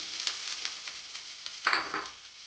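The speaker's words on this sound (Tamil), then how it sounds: "பஜ்ஜி மிளகா வதங்கிட்டு இருக்கு" Bajji chillies fry in a pan with a faint, soft sizzle, with a few light stirring scrapes and one slightly louder burst of crackle near the end.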